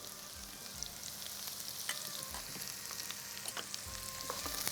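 Ingredients sizzle and fry in a pan with tamarind added, a steady close crackle broken by occasional scrapes of stirring, with no voices.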